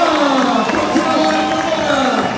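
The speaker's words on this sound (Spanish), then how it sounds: "¡Y un aplauso!" A crowd at a campaign rally for Mara Lezama in Cancún breaks into loud, sustained applause and cheering, with voices rising over the steady clapping throughout.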